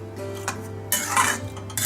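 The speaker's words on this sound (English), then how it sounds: "Mix once again." A spoon stirs and scrapes through paneer masala in a cooking pan, giving a few close metallic clinks and short scraping sweeps with no talking.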